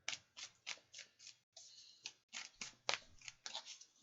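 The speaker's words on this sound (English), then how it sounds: "I'll give this a really good shuffle." Tarot cards shuffled by hand at close range, a quiet run of crisp riffling snaps and flutters in an uneven rhythm, about a dozen bursts with brief pauses, no voices.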